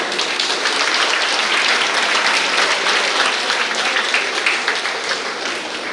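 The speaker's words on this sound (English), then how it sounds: "May we give them a big round of applause." A Christmas program audience gives a steady, dense round of applause that holds at full strength for several seconds before beginning to taper.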